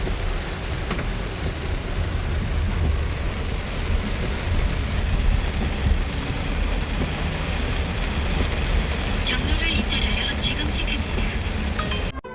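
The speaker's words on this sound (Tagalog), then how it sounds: "Maulan lang talaga. Trip lang talagang umulan." Steady rain falls outdoors in Gyeongju, Korea, near Bulguksa temple. A dense, even hiss of rainfall fills the whole stretch at a constant loudness, with faint background rumble beneath.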